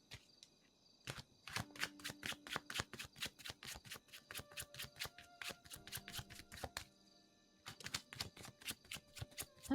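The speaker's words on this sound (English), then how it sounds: "let me go ahead and shuffle up the cards." Tarot cards shuffled by hand in rapid bursts of crisp riffling snaps, close and clear, with brief pauses between rounds and a quiet background.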